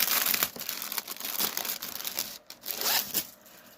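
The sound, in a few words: crinkling plastic bag of a cross stitch kit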